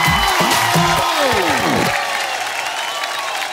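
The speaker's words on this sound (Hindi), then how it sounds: "जोरदार तालियां हो जाए इस बात पे." Studio audience on a televised cooking competition claps, a fairly loud, even spread of applause that starts under a singing or speaking voice and carries on alone for a few seconds afterward.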